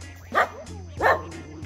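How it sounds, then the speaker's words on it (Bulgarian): Dogs near Uluwatu in South Bali bark twice, about half a second apart, fairly close and clear over a low steady background hum. "Кучета те ни пазят, правят ни път от маймуните да ни нападнат."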